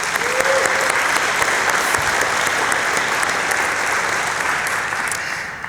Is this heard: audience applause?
yes